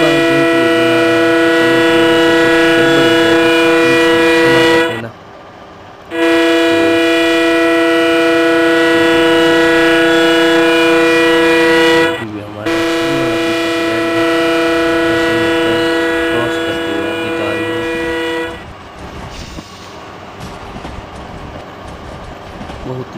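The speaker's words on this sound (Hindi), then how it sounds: "तो सामने से ट्रेन आ रही है पैसेंजर।" A passenger train in the Trainz Simulator game, on a Jodhpur to Jaisalmer route, sounds long, loud sustained horn blasts with brief gaps between them, then the horn gives way to steady rolling rumble.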